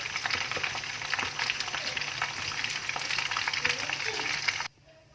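Fish frying in oil gives a continuous close sizzle and bubbling crackle that cuts off abruptly near the end.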